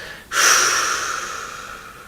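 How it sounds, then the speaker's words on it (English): A single forceful exhale bursts out close to the microphone, a sharp breathy rush that slowly fades over a couple of seconds. "breathe out quite forcefully for the count of 8. When you breathe out, you should actually hear your breath."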